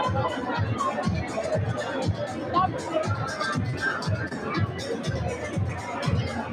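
Crowd of fight fans partying at a fight night in Marbella, a dense continuous hubbub of chatter and cheering, with voices talking close over the babble.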